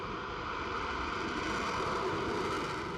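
Morpheus robotic lunar lander's engine firing at ignition and ascent: a steady, dense roaring rush with no breaks, at moderate level and no talk.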